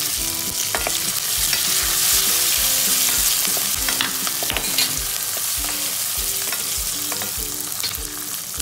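Garlic, green chili and ginger fry hard in a pan for a mixed vegetable Kolhapuri, with a loud continuous sizzle and regular rhythmic scrapes of a spatula stirring throughout, close up and with no talking.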